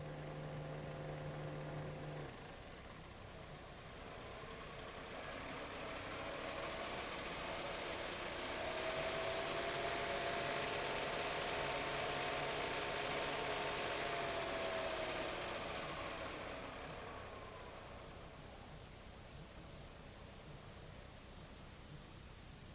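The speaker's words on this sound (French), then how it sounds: "nous démarrons le moteur et nous laissons le régime de ralenti se stabiliser" An Austin Metro engine running steadily for a long stretch, its smooth mid-pitched drone rising and swelling in the middle as the revs climb, then settling back toward idle, with no voices.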